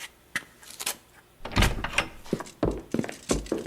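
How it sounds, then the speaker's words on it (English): A heavy door is handled in a dramatic night-time scene, with a run of loud, close wooden thunks and knocks, a few sharp clacks early on, then several solid bangs spaced over the last two seconds. "Open the door at once or I shall order my men to break it down."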